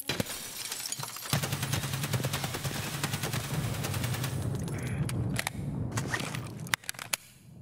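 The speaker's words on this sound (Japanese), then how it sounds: "なんか外のグレーの爆発の音さ、" A loud video-game grenade explosion bursts in, followed by sustained rumbling blasts and scattered sharp cracks that fade toward the end.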